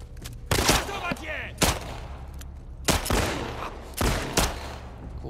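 Repeated gunfire in The Last of Us Part II during a Capitol Hill firefight, with five or six loud, close shots spaced roughly a second apart, each with a ringing tail.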